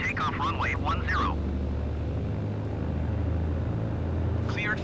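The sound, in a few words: BN2 Islander airplane taking off from runway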